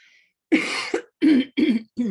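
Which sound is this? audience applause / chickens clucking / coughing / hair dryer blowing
coughing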